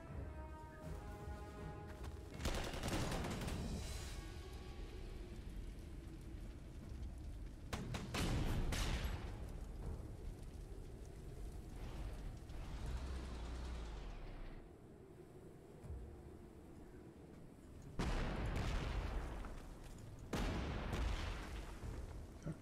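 Artillery fire in the strategy game Panzer Corps 2: repeated heavy booms and rumbling blasts at intervals, loud and up close, over steady game background sound.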